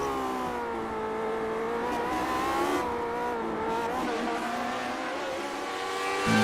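Historic Formula 1 race cars roar around the Long Beach street circuit, a continuous loud engine howl with shifting pitch as cars pass and accelerate, steady throughout with no talk.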